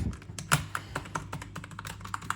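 Keycaps are popped on and off a light-up gaming keyboard, making a string of irregular, quiet plastic clicks and taps close by over a faint low hum.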